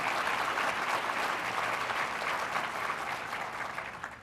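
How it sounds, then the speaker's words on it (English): A dense roll of audience applause at a chamber of commerce annual meeting, many hands clapping steadily at moderate distance, holding for a few seconds and then beginning to fade. "That's worthy of applause, indeed."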